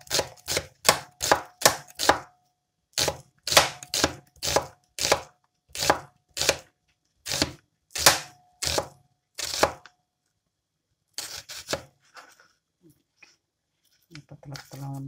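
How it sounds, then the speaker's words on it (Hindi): A knife chops onion thinly on a board in a kitchen, a run of sharp, evenly spaced close cuts that pauses briefly and resumes, then gives way to softer rustling and handling sounds. "ऑनियन काटने लगे।"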